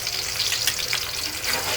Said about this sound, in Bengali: আর আমি পেঁয়াজের সাথে দিয়ে দিচ্ছি আদা রসুনের পেস্ট